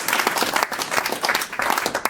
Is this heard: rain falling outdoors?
no